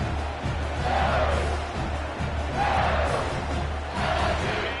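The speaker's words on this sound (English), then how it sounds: "they are on their feet, yelling, screaming." A large stadium crowd in the football video game NCAA 25 roars and yells continuously, swelling in waves, with a low steady hum underneath.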